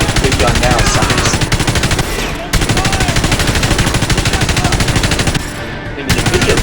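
A big gun firing nonstop in the video game Frontlines: Fuel of War, loud rapid automatic bursts with two short breaks between long sustained volleys.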